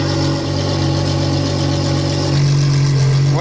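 Ferrari Daytona SP3 with its exhaust valves open, rumbling loudly at close range in a deep, steady idle with a slight rise in pitch near the end, alone without voices.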